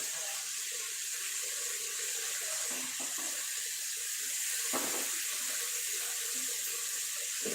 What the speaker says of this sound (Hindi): तो चलिए अब इसमें डालते हैं पानी